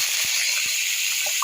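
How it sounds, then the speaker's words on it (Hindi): Two spoonfuls of water hit frying masala in a pan, raising a steady, bright sizzling hiss with a few soft taps of the spoon underneath. "इसमें मैं 2 चम्मच पानी भी इस मसाला में डाल रही हूँ"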